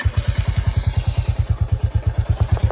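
A Royal Enfield Bullet motorcycle engine idling after starting: a loud, steady thumping pulse at an even rapid rhythm, close by, with no talk.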